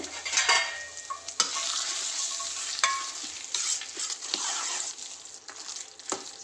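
Spoon stirring a sizzling tempering into curd rice in a home kitchen, steady scraping and mixing with crackling sizzle throughout, close and moderately loud, no talking.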